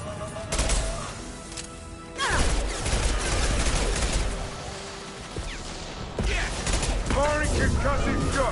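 Concussive shots fire in the Mass Effect 2 Legendary Edition video game, heavy booming blasts with crashing impacts and mechanical clatter, several bursts across the stretch, loud and dense, with no one talking.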